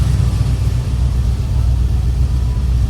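A BMW E36 with a swapped LS V8 idles just after its first start, running very rich with a heavy, steady low rumble and constant droning exhaust close by, no talking over it.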